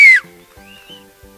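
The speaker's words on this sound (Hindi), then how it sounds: "मनीषा जी के लिए ज़ोरदार एक सीटी भी बनती है।" A single sharp, loud whistle cheers for Manisha Koirala at a film trailer launch event. It is brief and falls in pitch, then fades into a quiet hum.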